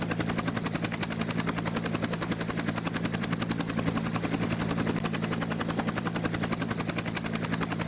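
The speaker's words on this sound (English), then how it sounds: "my helicopter has arrived" An arriving helicopter's rotor beats in a fast, steady chop alongside a low engine drone, constant and fairly close throughout, at an oil rig diving operation in Nigeria.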